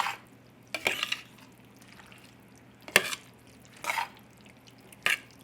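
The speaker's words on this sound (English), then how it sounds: "Now we're just going to stir it again. And we're just going to fold it gently." American goulash is stirred and folded in a pot, giving four or five short, soft, wet scraping bursts separated by quiet gaps over a faint background hum.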